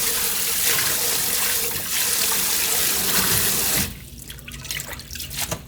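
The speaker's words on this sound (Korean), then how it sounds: "흐르는 물에 2번 정도 깨끗하게 씻어 오겠습니다." Spinach for doenjang soup is rinsed under a running kitchen tap: a loud, steady rush of water pours for several seconds, then cuts off, leaving scattered drips and small splashes nearby.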